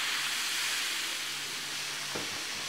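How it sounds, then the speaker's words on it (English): A steady, soft hiss of water coming to a boil in a pan for bajra (pearl millet) momo dough, with a faint low hum underneath and a brief knock near the end. "The water is boiling"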